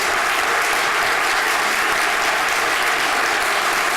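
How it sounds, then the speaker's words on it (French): An audience applauds a parliamentarian at a political party event, with steady, dense clapping from a large crowd sustained throughout. "Alors, vous pouvez l'applaudir, et largement il le mérite."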